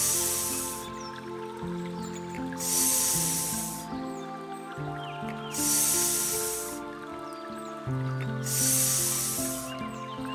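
A voice hisses a long "sss" to imitate wind moving through plants, repeated in four bright bursts spaced a couple of seconds apart over sustained tones of soft background music.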